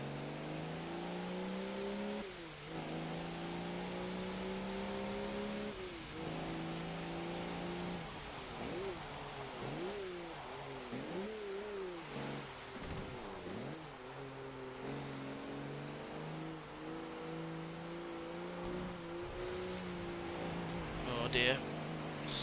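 A 2009 Audi Q7 V12 TDI engine droning steadily through laps in Forza Motorsport 7, pitch rising and falling with gear changes and corners, continuous and moderately loud throughout.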